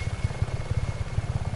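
A helicopter flies in the open-world game Just Cause 3, its rotor beating in a fast, steady, loud low thump with engine whine, heard alone without talk.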